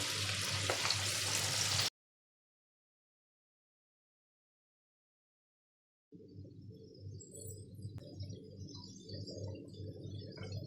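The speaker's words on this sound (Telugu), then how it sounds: "ఒక 2 నిమిషాలు అయితే బాగా ఫ్రై అయిపోతాయి ఈ దొండకాయలు అన్నవి" Ivy gourd (dondakaya) pieces fry in oil with a steady, soft sizzle, cutting out to silence for a few seconds and then returning as a quieter, even crackle.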